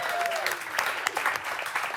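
A studio audience on a coastal cooking show applauds for a cook, a steady wash of clapping with some brighter individual claps and brief voices mixed in.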